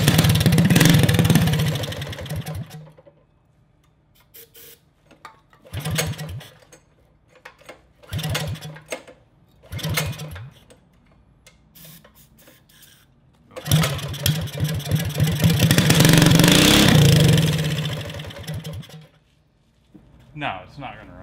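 An old racing kart engine being cranked repeatedly, loud rough bursts of buzzing engine noise separated by pauses, with two longer sputtering runs, and people talking nearby.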